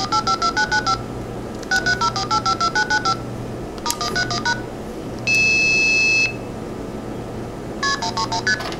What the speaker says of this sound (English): I will switch to memory mode by holding the 2600 button down, and now we get the faster dialing rate.